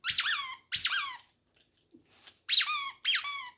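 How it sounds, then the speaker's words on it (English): A plastic Halloween toy rat squeaks loudly and close, in four sharp squeals with a short quiet gap in the middle, with no voices. "It's a squeaking rat."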